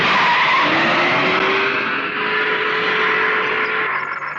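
A car skids to a stop with a loud, sustained tire squeal, a long high screech over road noise that holds steady for several seconds, close and dominant with no talking.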